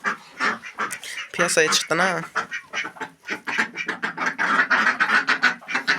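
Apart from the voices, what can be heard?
ducks quacking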